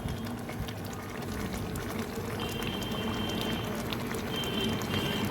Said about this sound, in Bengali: ভালো করে তাকে ফুটিয়ে নেবো